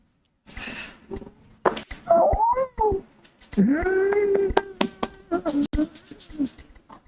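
Inside the video game Fortnite, a cat gives several drawn-out, wavering meows, mixed with sharp clicks and other short game sounds.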